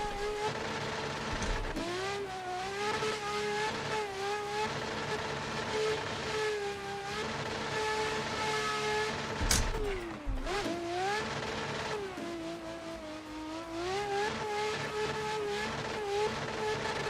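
Nissan R35 GTR engine in a drifting video game, a sustained droning whine that rises and falls with throttle, with a brief sharp clunk midway, steady and moderately loud with no voices.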